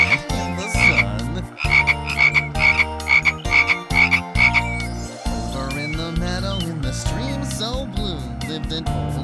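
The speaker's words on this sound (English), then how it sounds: "So they croak and they croak in the sand, in the sun." Frogs croak in a steady rhythmic pattern within a cheerful children's song, the repeated croaks riding over music and singing voices.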